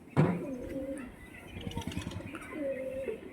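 Lahori Siraj pigeons cooing at a pigeon sale, several soft throaty coos close by with bursts of fluttering and chirps, someone speaking nearby.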